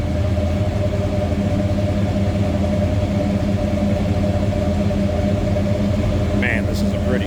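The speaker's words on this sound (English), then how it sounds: "That was a cold start, so we have a little higher idle here." A 1972 Chevrolet K20 Cheyenne Super pickup with a big block engine idling high just after a cold start, a steady, loud, close rumble with someone talking over it.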